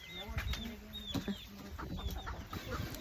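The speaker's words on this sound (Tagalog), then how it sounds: "Lots of chickens" Chickens clucking in a countryside yard, with several short cackles and calls scattered across a busy outdoor background; a person talks faintly nearby.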